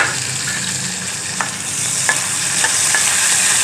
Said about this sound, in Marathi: कांदा, टोमॅटो घ्यायचे, छान 2 मिनिटं परतून